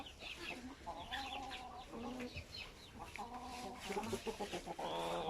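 Chickens cluck and call close by in their coop, several birds overlapping in short repeated phrases, with a rising burst of clucking toward the end.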